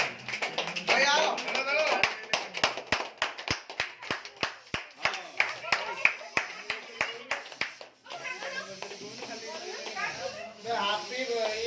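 Hands clap in a steady, fairly quick rhythm at a family anniversary celebration, loud and close, with voices chattering and calling out over the beat; the clapping stops near the end while the talk goes on.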